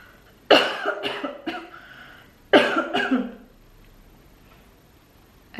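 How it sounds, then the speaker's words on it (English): Two bursts of harsh coughing, each a quick cluster of rough hacks, separated by a brief pause and followed by quiet. "I need to cough, so let me remove the microphone real quick."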